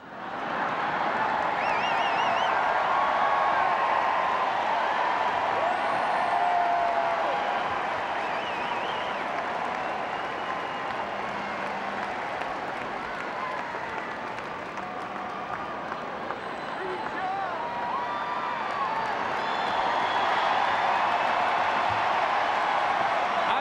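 A vast convention crowd at the 1996 Democratic National Convention roars and applauds, a sustained wash of cheering, whistles and clapping that dips slightly midway then swells again, heard from a distance in a large hall.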